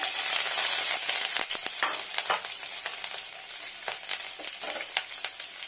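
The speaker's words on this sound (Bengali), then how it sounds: "একটু পরিমাণ মতো তেল। এখানে দিয়ে নেবো পেঁয়াজ কুচানো, রসুন কুচানো" Chopped onion and garlic frying in a little mustard oil, a loud continuous sizzle with bursts of crackle and occasional stirring scrapes.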